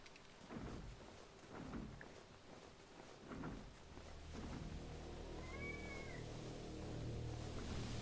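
A pet cat meows once or twice close by, a short rising-falling cry standing out over a steady low rumble of background noise.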